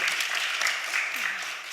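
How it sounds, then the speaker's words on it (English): Audience at a Facebook event celebrating African icons breaks into applause, a short, even wash of many hands clapping at moderate loudness with no gaps. "So let's start with actually applauding yourself"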